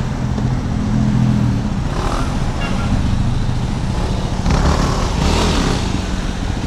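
Motor traffic on a road, a car passing close by with engine rumble and a swell of tire and wind noise, heard from a rider on a scooter amid steady road noise.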